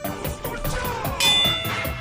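A doorbell in the Roblox game Item Asylum rings as repeated bright metallic dings, close and moderately loud, with a short sustained chime partway through and no talk.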